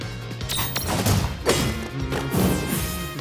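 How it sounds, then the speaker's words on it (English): Heavy impact bangs from a giant creature's attack in World of Final Fantasy, a few loud thuds and crashes landing over about three seconds amid game effects, with no voices. "I love the sound it makes when my giant guy attacks. It's like a bang"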